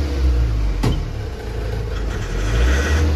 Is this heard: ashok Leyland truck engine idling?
yes